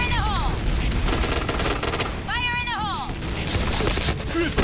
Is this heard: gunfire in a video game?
yes